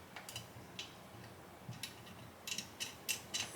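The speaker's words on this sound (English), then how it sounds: "So left and right, it steers the wheels left and right." Steering mechanism on a Back to the Future DeLorean scale model car turns the wheels left and right, giving faint, close plastic ticks and ratcheting clicks in short irregular bursts.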